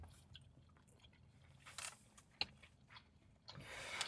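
Someone chewing a Panera Sausage CinnaScramble or Fudgy Brownie CinnaTop pastry, with faint, soft crunchy bites and mouth sounds close to the mic, a sharper crunch midway and rustling near the end.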